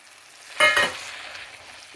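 Yogurt and coriander go into a frying lobiya (black-eyed pea) and methi curry with one short, wet splat and stir, then a faint sizzle fading underneath.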